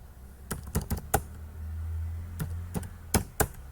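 A Linux command typed on a computer keyboard: close, irregular key clicks in quick clusters separated by short pauses, with no one talking.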